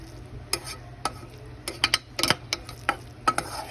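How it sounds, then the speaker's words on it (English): Butter melts in a hot pan while being stirred, heard as a quiet low sizzle under a string of sharp utensil taps and scrapes against the pan, with no voices. "Give it a good stir. Melt that butter."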